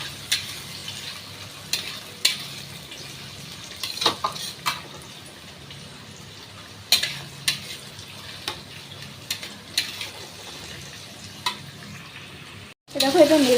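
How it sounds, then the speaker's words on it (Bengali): Tomato, garlic and green chilli frying in a pan for a meat curry, a soft steady sizzle broken by sharp spatula scrapes and clinks against the pan at irregular intervals, close by, with a louder clatter near the end. "টমেটো, এখানে রসুন, কাঁচা লঙ্কা যা আছে সব দিয়ে দেবো। এটা ভালো করে ভেজে নেবো হালকা করে।"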